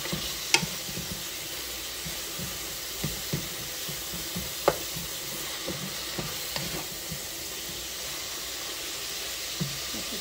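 Onion sautéing with tomatoes in a pan gives a soft, continuous sizzle, broken by a few faint clicks and scrapes of stirring, and no voices.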